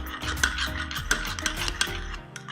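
Rice-flour chakli dough is worked by hand with saffron food colouring, giving soft, steady rubbing and scraping strokes in an uneven rhythm over a faint tonal hum.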